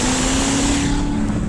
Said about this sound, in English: Valves in the exhaust open up.